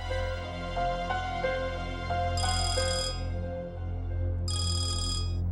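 A phone rings during an outgoing call in a Tamil TV drama, with two loud bursts of electronic ringtone warbling over a steady low background tone and no talking.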